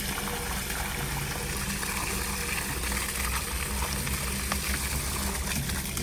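Water runs steadily through a sieving process at a quarry dig, a loud, even rushing and splashing wash that continues without pause.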